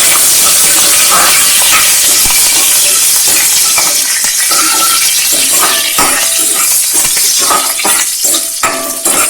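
A whole red chilli sizzles loudly in hot oil in a pan, giving a strong, continuous hiss with scattered pops and crackles throughout, and no voice is heard over it.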